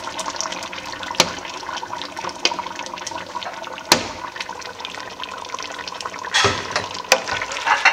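Blended tomatoes pour into a pot of stew with a continuous wet, gurgling splash, broken by a few sharper clinks and splats, close and moderately loud.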